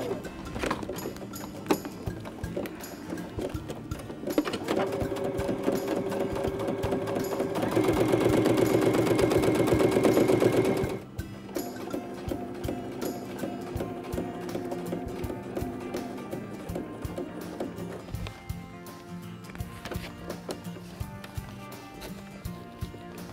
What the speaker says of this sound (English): now sewing on coated upholstery fabric or clear vinyl is a piece of cake